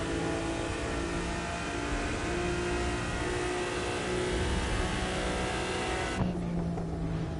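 A car engine in The Crew 2 racing game drones loud and continuous at high revs with a layered harmonic whine, shifting pitch slightly before a gear change cuts it back near the end.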